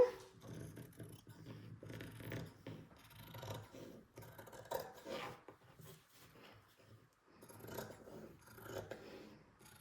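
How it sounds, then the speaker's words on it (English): Fabric scissors cutting around a drawn line on cross stitch fabric for hoop framing, with quiet, close, irregular snips and rasping rubs in short bursts separated by brief pauses. "grab your fabric scissors, and we are just going to cut around where I've drawn the line"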